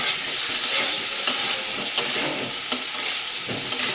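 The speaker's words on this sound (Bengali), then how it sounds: "আলু ফুলকপি কিন্তু ভালো করে দেখো লাল লাল করে ভাজা হয়ে গেছে" Potatoes and cauliflower fry with ginger, green chili paste, turmeric and salt in a pan, a steady sizzle broken by a few sharp scrapes of the stirring spoon, with no talk.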